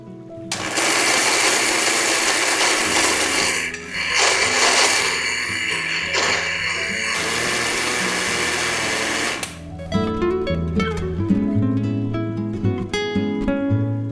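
A mixer grinder whirs loudly for about nine seconds, grinding spices into powder with a steady high motor whine, then cuts off into lighter clattering and rattling.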